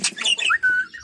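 Parakeets nesting give a quick burst of bright, whistled chirps and a squawk, close and clear, ending in a rising whistle.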